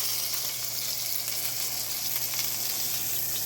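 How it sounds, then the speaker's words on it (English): Lamb chops searing in a hot pan give a steady, dense sizzle that holds evenly throughout with no pauses, close and moderately loud, with no talking. "But you want to sear all those sides."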